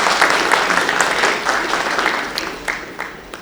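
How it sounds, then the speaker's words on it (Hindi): An audience at a mushaira, a live Urdu poetry gathering, breaks into steady applause, a dense wash of clapping that carries on evenly and tapers slightly toward the end. "ज़ोरदार तालियों से आप भी उनका इस्तकबाल कीजिए"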